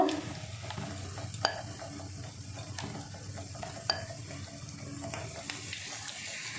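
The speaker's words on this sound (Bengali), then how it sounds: "এবার আমি তেলের মধ্যে ছেড়ে দেবো এভাবে বেশ কটা দিয়ে দেব" Batter-dipped spinach pakoras are slipped into hot oil and fry with a steady soft sizzle, punctuated by a few clinks of a utensil against the pan, close by and without talk.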